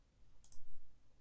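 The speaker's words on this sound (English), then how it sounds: "right click on the timeline" Single faint double click of a computer mouse button, a quick pair of soft taps close by against quiet background hiss.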